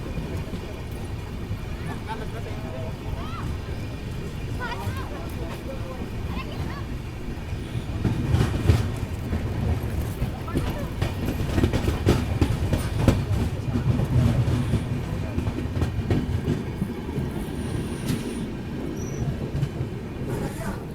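A passenger train in Uttar Pradesh running at speed at night, with a steady rumble and rhythmic clickety-clack of wheels over rail joints that grows louder midway, heard from inside the carriage.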